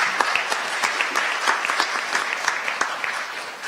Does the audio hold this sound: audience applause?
yes